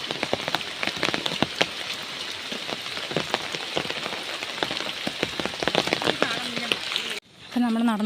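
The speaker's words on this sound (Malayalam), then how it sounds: "ഇറങ്ങാനാകുമ്പോഴത്തേക്ക് നല്ല മഴ പെയ്തു" Heavy rain pours down steadily outdoors, a dense, loud patter of drops on surfaces that lasts most of the clip before a sudden cut to a different, quieter scene at the end.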